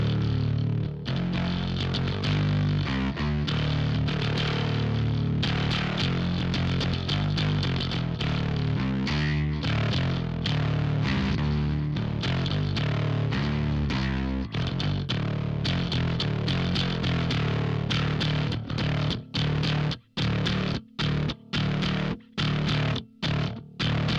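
Bass guitar played through a Fuzzrocious Dark Driving V3 fuzz pedal, a thick, loud, distorted riff running steadily alone, ending in a series of short, punchy chopped notes separated by brief silences.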